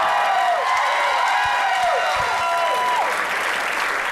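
A live theater audience at Largo applauds in a dense, sustained round of clapping that slowly tapers, with a voice speaking over the applause.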